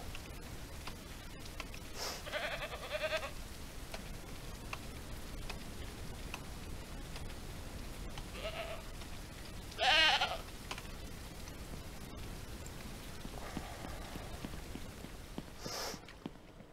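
Goats bleat a few times at moderate distance in the video game Ranch Simulator over a steady soft background hiss, with short cries spaced several seconds apart and no talking.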